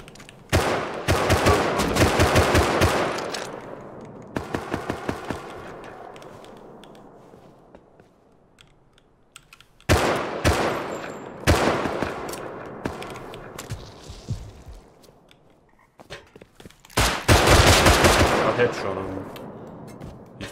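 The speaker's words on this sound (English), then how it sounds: "He's shooting the guy on the hill." Gunfire in an online shooter game during a chaotic airfield fight: loud rapid bursts of automatic fire in several volleys, with sharp single shots and rattling echoes between bursts, and quieter lulls in the middle.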